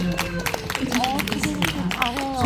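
A small audience applauds an interpreter with light, scattered hand claps, while a voice keeps talking over them throughout.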